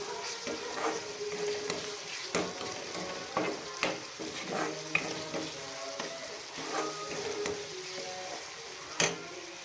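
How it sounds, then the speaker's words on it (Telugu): Ginger paste and onions frying in hot oil for a red lentil tomato curry, a steady close sizzle broken by repeated scraping and stirring clicks of a spoon against the pan. "అల్లం పేస్ట్ ఆయిల్లో కొంచెం ఫ్రై అయ్యాక"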